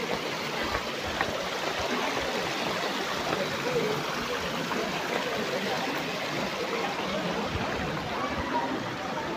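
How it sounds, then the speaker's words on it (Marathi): A river flowing past a Datta temple near Marleshwar makes a steady, dense rushing wash that stays even and fairly loud throughout with no pauses. "हा बघा ही नदी आहे, मध्ये नदी आहे"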